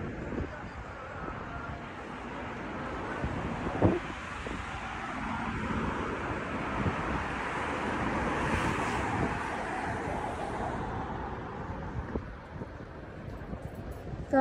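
Steady evening wind sweeps across a seaside corniche in Ajman, a broad, constant rush with the faint wash of waves and distant road traffic under it.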